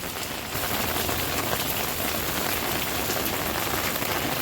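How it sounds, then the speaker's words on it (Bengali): Heavy rain pouring onto a car in the UAE, a dense, steady patter of drops drumming on the roof that continues alone without any voices. "গাড়ির উপর বৃষ্টি"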